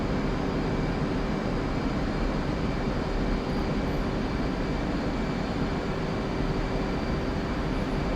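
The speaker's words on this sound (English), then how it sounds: "We're just going to do a quick flyby here to see exactly how this looks." F/A-18C jet flyby in the DCS combat flight simulator: a steady, loud broadband engine roar with a constant whine, holding level for the whole stretch with no obvious approach or fade and no talking.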